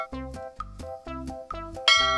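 A cartoon bell sounds with bright metallic clangs, about five evenly spaced hits striking a nose, each ringing briefly with tonal overtones, close and clear with no talking.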